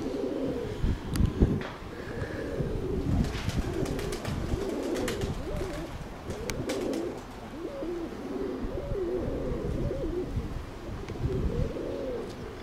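Armenian fighting pigeons coo repeatedly in low, throaty rolling calls, with several birds overlapping close by, joined by scattered clicks and wing flutters, no voices present.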